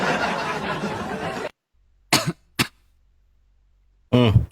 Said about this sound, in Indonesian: Belum apa-apa sudah batuk.